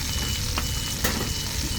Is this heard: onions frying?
yes